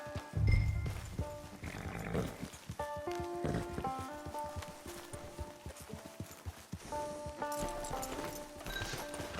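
A horse in the Red Dead Redemption 2 Online video game clip-clops along with steady hoof beats and snorts, set against soft background music at low volume.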